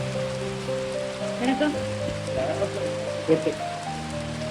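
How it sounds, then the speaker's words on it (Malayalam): Rain falls in a steady, even patter throughout, with voices talking over it and a low hum underneath. "മഴയല്ലേ ഇപ്പൊ?"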